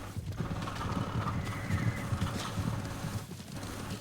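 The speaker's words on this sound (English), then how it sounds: "Horses, they're coming for us." Horses gallop in Ghost of Tsushima with a dense, continuous clatter of hooves and a neigh or whinny, fairly quiet and steady throughout.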